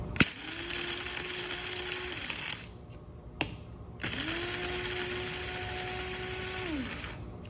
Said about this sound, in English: Boom, so the beans are all grinded up.